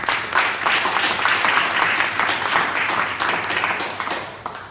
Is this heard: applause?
yes